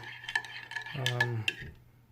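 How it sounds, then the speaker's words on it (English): A metal spoon stirring matcha tea in a cup, quick tinkling clinks against the sides and a brief ringing scrape, close and clear, fading to quiet at the end. "it stirs okay when you stir it with a spoon"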